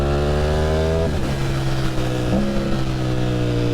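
A liter-bike sport motorcycle engine runs at a steady, loud, close idle, then the throttle is blipped up twice, lifting the pitch briefly before it settles back down.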